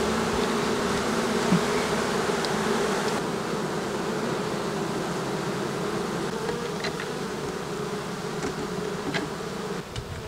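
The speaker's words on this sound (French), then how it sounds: "Déjà que les abeilles sont sur le grillage à ventiler" Honey bees buzz around a hive during an open-air colony transfer, a dense, continuous drone of many insects close by with no break, and no voices.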